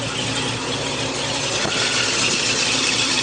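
A 1976 Ford Elite Gran Torino engine idles smoothly, giving a steady, even rumble with no misses or surges, heard close and fairly loud throughout.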